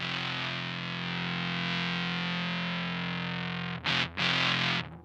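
A guitar runs through a fuzzy distortion effect, a dense, saturated sustained chord buzzing steadily before being choked off into a couple of short stabs at the end, with no voices.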